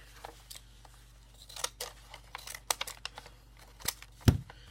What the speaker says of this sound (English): use the scissors to make funny patterns